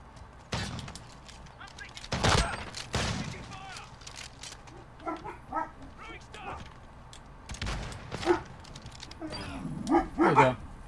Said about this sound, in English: Dogs are getting loud